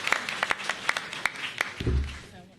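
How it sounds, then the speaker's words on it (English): A small audience at a mayoral press event celebrating school test results claps in scattered, irregular hand claps, moderately close, ending as a voice starts speaking. "it's worth a round of applause"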